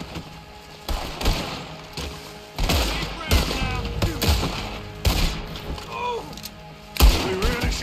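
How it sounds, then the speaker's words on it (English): Gunfire in Red Dead Redemption 2: repeated bursts of loud shots and rapid volleys in a game shootout, punchy and close, with voices talking in between. "Why are you shooting?"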